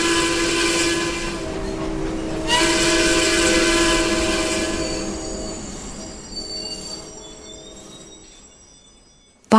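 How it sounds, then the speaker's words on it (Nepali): The Bengal Mail passenger train runs along the rails with a loud, sustained rumble and shrill wheel squeal, steady at first and then gradually fading, with no voices. "बंगाल मेल आफ्नै रफ्तारमा बढिरहेछ।"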